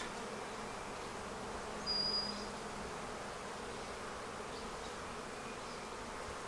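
Honey bees hum around an open beehive frame in a steady, even drone that fills the whole stretch, with one bee passing close and louder for a moment.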